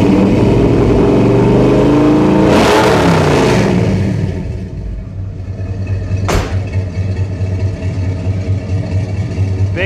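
A car engine fitted with a dual exhaust and an H-pipe revs loudly up to a peak, drops back to a deep, rumbling idle, then gives one sharp throttle blip before settling into a steady idle.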